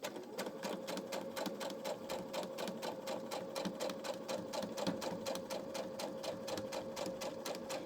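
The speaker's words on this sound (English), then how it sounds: "We're going to sew 1/4 inch from that drawn line." A sewing machine runs steadily, stitching a quarter-inch seam on a snowflake star quilt block. Its fast needle rattle and motor hum continue unbroken throughout, fairly quiet and close.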